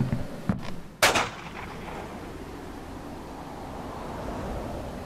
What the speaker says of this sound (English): Was that a warning shot, or do you just have bad aim?